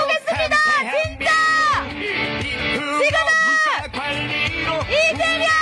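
Crowd at a Democratic Party presidential campaign rally in Jungnang and Gwangjin, Seoul, cheering and chanting loudly in unison, with dense overlapping voices that rise and fall in repeated bursts over amplified sound.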